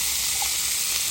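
Butter sizzling in a hot skillet while cooking filet mignon, a steady bright hiss with no pauses, close and fairly loud.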